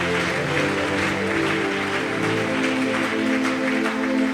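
A church congregation applauds steadily to acclaim the Lord, a dense, even wash of clapping hands with a faint murmur of voices underneath throughout.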